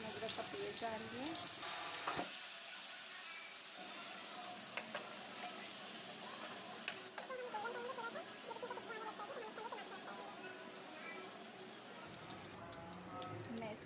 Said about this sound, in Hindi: एक पैन में हमने ऑयल लिया, इसके अंदर हमने लहसुन अदरक का पेस्ट डाल दिया